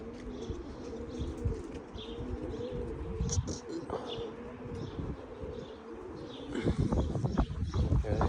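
A pigeon coos softly and repeatedly outdoors, with faint chirps and a brief flutter of wings against a low background hum.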